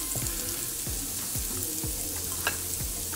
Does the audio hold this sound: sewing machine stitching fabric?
no